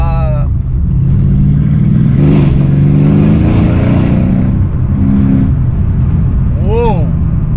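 A Mercedes CLS63 AMG engine revs hard on a downshift, a loud, close, sustained roar that climbs and holds, with the tyres slipping and excited voices over it.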